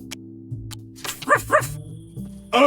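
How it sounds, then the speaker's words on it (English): A dog barks in short yips, a few quick barks at close range, with some game sound effects around them. "Oh! It's just a dog!"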